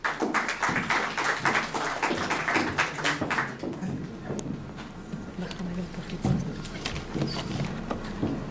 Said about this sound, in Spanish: Unas palmas, por favor,